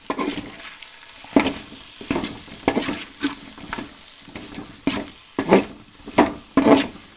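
Pasta is stirred in a pan in a series of sharp scraping strokes, roughly one or two each second, over a low sizzle, with no talk.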